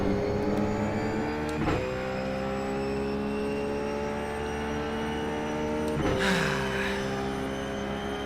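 Open-wheel Champ car engine in the iRacing simulator, a steady, loud sustained drone with stable harmonic whine throughout, briefly swelling at two points as if shifting or passing traffic.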